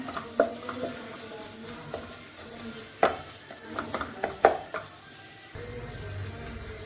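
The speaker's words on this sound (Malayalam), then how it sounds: "പൊടികളുടെയൊക്കെ പച്ചമണം പോകുന്നത് വരെ നന്നായിട്ട് വഴറ്റിയെടുക്കാം" Spiced masala powders for a chicken-parts roast being sautéed and stirred in a pan, with intermittent spoon scrapes and clinks over a low sizzle, close and moderately loud, no talking.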